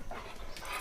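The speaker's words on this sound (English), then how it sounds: "Dogs, get them away!" Dogs pant and whimper close by in a short burst, with breathy huffs and a thin high whine near the end, heard outdoors on a morning walk.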